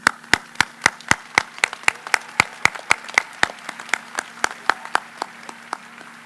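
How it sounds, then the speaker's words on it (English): Steady, evenly spaced claps at a high school career magnet school graduation ceremony, sharp and regular like unison rhythmic clapping, about four per second for six seconds, with a faint low hum underneath. "you deserve your own round of applause tonight."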